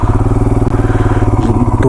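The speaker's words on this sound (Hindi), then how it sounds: "हाँ बड़ी बाइक स्किड हो रही है" A big motorcycle on black ice on a mountain road near Tungnath and Chopta gives a loud, steady engine chug with rapid regular pulsing, close by, throughout.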